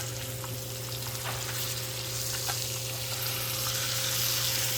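Blackened fish sizzles steadily in a pan, a constant close frying hiss with faint crackles and no voices over it.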